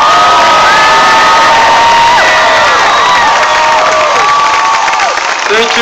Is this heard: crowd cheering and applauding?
yes